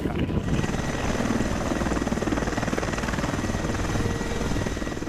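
An MH-60R multi-role naval helicopter flies close by, its rotor making a loud, steady, continuous thump with a dense engine roar underneath, lasting throughout.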